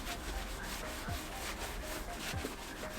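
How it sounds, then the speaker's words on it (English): A small towel wiping excess cleaning product off leather hiking boots, giving a soft, continuous close-up rubbing and scuffing that stays quiet and steady with no talk. "I'm just going to wipe off any excess with a wee towel here."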